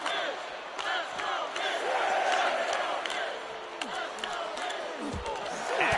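A WWE 2K24 wrestling arena crowd roars and cheers continuously, loud and dense, with scattered shouts and sharp thuds rising out of the din.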